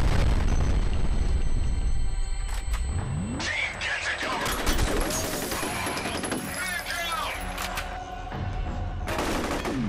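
In the FEAR video game, a grenade is shot in mid-air and explodes with a heavy, loud boom. Bursts of gunfire and more blasts surround it in a dense, chaotic firefight.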